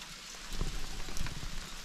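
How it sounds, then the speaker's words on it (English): Spring hail or sleet pattering on a roof, a soft irregular tapping of small ice pellets against a low background hiss, fairly faint and steady. "Nothing like a little spring hail or sleet."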